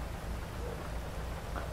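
Steady rain falling in GTA V Online, a continuous broadband hiss with low rumble, fairly quiet and unbroken throughout, with no voices.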